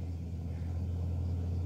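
A Hino truck rolls along a dusty road, giving a steady, close, low engine rumble throughout with no voices.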